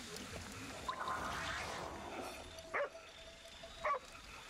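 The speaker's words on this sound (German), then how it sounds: "Oh, ein Hundi." A dog in a Ghostwire Tokyo street gives two short, sharp yelps a second apart over a low steady background hum, fairly close and distinct.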